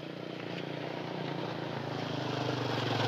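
A motorcycle travels along a steep hill road on the way to a waterfall, its engine a steady mid-range drone that grows slightly louder as it nears, with wind noise around it.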